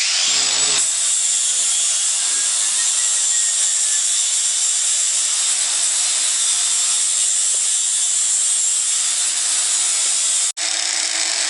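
A Ryobi grinder cuts into a metal spring compressor, giving a loud, steady high-pitched grinding hiss that runs nearly unbroken before stopping abruptly near the end.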